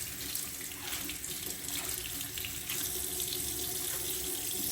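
Steady running tap water splashes into a sink as makeup brushes are rinsed under it, a continuous close hiss throughout with no talking.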